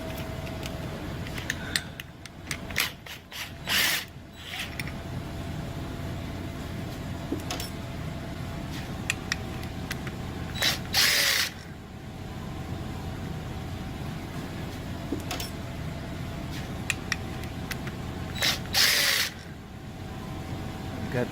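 A ratchet works on a car AC compressor bracket under the hood, with faint clicking and scraping between a few louder bursts of metal clatter, close but quiet overall.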